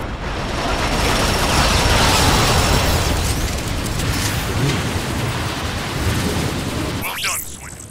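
Large explosion in the video game Transformers: Rise of the Dark Spark, a loud, sustained roaring blast with rumbling debris that fades near the end.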